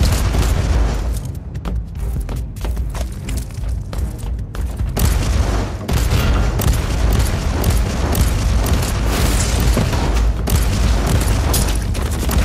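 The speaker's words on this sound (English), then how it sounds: "Cleansing shots fired." Heavy gunfire and booming blasts from the Warhammer 40,000: Inquisitor - Martyr video game, a dense, loud, continuous barrage of shots and explosions that runs through the whole stretch with no pauses.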